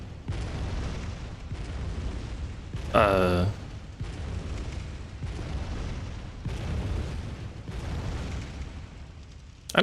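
Cannon shots blasting a bridge in the video game Bloodborne: one loud, ringing boom stands out near the middle, with heavy rumbling game noise and a voice talking around it.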